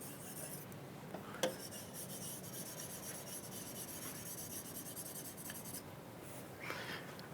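A board is wiped to erase writing in a chemistry classroom, a steady, soft, continuous rasping rub lasting several seconds with one brief knock partway through.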